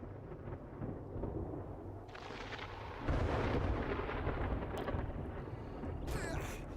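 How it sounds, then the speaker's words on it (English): Rolling thunder and storm rumble from a thunderstorm in the green biome of the video game 7 Days to Die, a steady low roar that swells louder midway, with sharper cracks near the end. "Man, the green biome storm is really cool."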